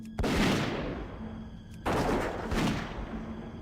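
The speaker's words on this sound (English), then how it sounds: "That gunshot's too loud on that stuff." Two loud, sharp gunshots from the video game World of Warcraft Ascension, each a sudden crack followed by a sustained rumbling tail, spaced under two seconds apart, with no talk.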